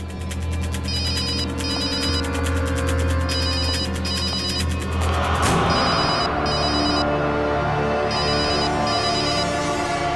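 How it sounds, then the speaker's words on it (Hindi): A telephone rings nearby in a steady electronic ringtone of repeated bursts, loud and continuous, with the pattern shifting partway through. "फोन की आवाज तो यहीं कहीं से आ रही।"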